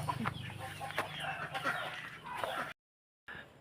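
Several chickens cluck and murmur nearby in a continuous busy chorus, then the sound cuts out briefly before resuming.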